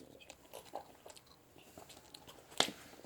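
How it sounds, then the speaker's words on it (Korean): Someone eats spicy food up close, making faint, soft chewing and biting sounds in scattered bursts, with one sharper, louder crunch near the end. "이거 한 번 먹어보도록 하겠습니다."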